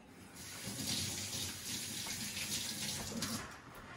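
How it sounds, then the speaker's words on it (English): Running tap water splashes steadily over fingers being rinsed at a kitchen sink, a continuous soft rushing gush at moderate distance, fairly quiet, with no talk. "Let me give my fingers a quick rinse."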